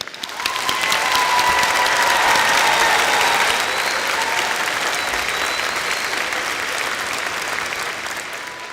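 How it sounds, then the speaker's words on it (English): Sustained applause from a large crowd at a university commencement ceremony, steady and loud throughout, with a faint cheer mixed in and no speech over it. "So one last round of applause for everyone I just mentioned"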